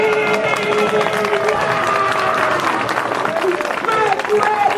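Audience applause at a live magic show in Alcorcón, dense clapping mixed with crowd noise and shouts, steady and fairly loud throughout with voices talking over it.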